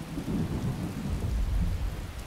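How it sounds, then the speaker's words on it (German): Deep, bass-heavy thunder rumbles continuously with steady rain in the video game Skyrim, a loud, full storm wash with no voices. "Donner hört sich gerade richtig geil an. Richtig mit Bass."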